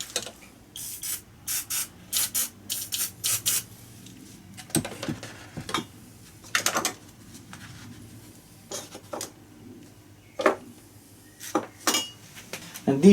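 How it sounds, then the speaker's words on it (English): Bolts are worked loose from an alternator bearing plate with a ratchet and spray oil, giving bursts of quick metallic clicking and short hissing sprays, close up and separated by pauses, with no talking. "So let's remove those bolts."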